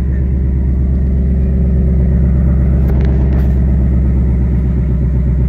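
A Ford Mustang Bullitt engine running close by, a loud, deep, pulsing idle rumble that stays steady throughout, with a brief faint higher noise near the middle.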